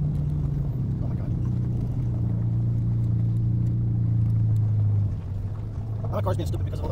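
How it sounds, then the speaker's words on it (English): A car engine strains while climbing steep, rocky hills, a sustained low droning hum that holds steady for several seconds before dropping off, with a voice talking over it. "My car's being stupid because of all the big hills."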